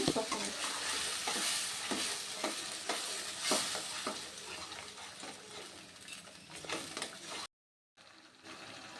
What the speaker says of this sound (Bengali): এবার মশলাটাকে আমি কষাবো।